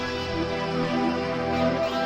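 A song plays with its drums stripped out, leaving sustained layered melodic and harmonic parts, steady and moderately loud with no percussion, no voices talking over it.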